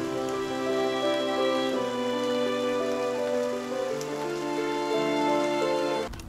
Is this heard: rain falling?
yes